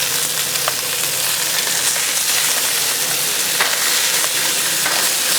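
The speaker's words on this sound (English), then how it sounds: "we're going to sear them up pretty good" Tomahawk pork chops sear on a hot griddle with a loud, steady sizzle that fills the whole stretch close up. It carries a few faint ticks and no voices.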